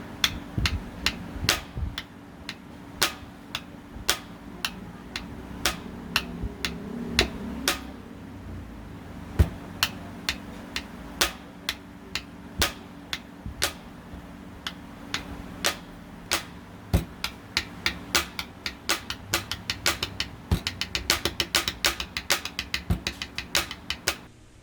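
A pen taps out a complex looping rhythm in groups of ones, twos and threes, producing sharp, close clicks over a faint background hum, steady and without speech throughout.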